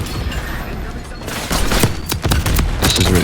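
Shotgun fire in Call of Duty Black Ops 6, loud chaotic game audio with bursts of blasts and impacts building up partway through, mixed with other battle noise.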